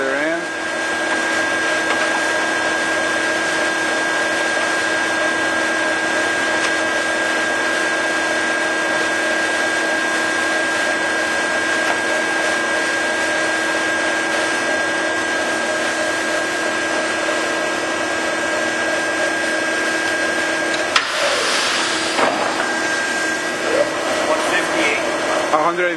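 A Gisholt 3L lathe runs at 158 RPM with a steady mechanical hum and whine that holds evenly throughout, and a short clattering burst comes near the end.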